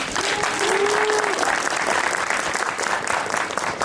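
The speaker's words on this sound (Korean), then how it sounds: "떨지 마시라고 큰 박수 한번 부탁드릴게요" Big round of applause from an audience at a Korean film event, steady and dense clapping filling the whole stretch at even loudness, with no talk over it.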